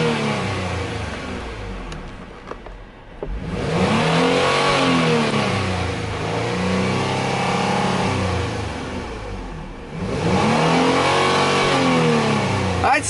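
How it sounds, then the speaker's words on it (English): Engine of a 2012 Ford Explorer being parted out, showing 111,451 miles on the engine, revved up twice from idle to high rpm, each rev rising, holding and settling, loud and close, with a voice briefly audible between the revs. "I'd say sounds pretty good when you rev it up."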